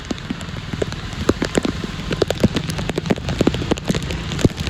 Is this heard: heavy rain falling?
yes